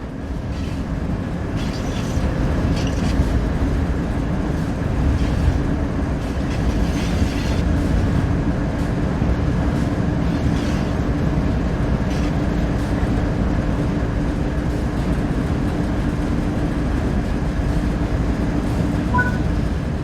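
A locomotive in the Train Sim World 3 game runs steadily with a continuous low rumble and faint rail clatter, holding level for the whole stretch with no talk over it.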